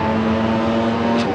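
Drag racing cars launching side by side off the starting line at Texas Motorplex, a loud sustained engine roar with a steady droning tone and a brief sharp burst near the end.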